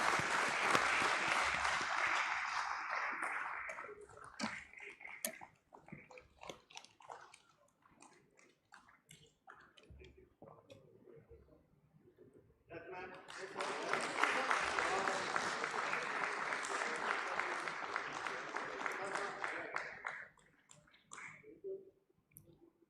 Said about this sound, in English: Let's keep the claps on.